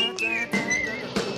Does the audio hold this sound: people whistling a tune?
yes